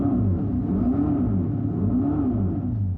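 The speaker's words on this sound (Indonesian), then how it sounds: "Ini terdengar seperti mesin mobil. Dan mungkin terasa seperti mesin mobil biasa." An all-electric Dodge Charger produces its simulated engine sound, a deep, loud rumbling rev that rises and falls in smooth waves without a break, heard on its own.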